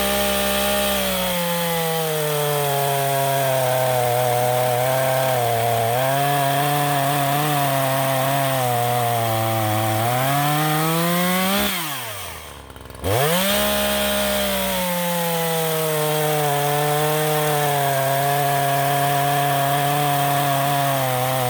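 An Echo CS-3510 chainsaw buzzes loudly and steadily while cutting through a large piece of wood, its pitch sagging under load, then briefly dropping to near idle before revving back into the cut.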